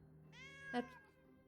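A cat gives a single drawn-out meow, close and fairly quiet, over a faint hum with no talk.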